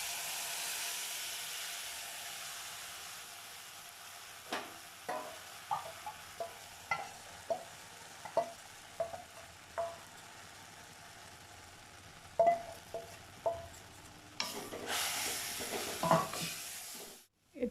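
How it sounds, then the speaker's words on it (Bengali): Tamarind pieces sizzle with popped mustard seeds in hot oil while a utensil scrapes and taps the pan in a steady series of clicks over a soft frying hiss. "তো আমি এবার তেঁতুলের কাঠটা দিয়ে দিচ্ছি।"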